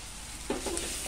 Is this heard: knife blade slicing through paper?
no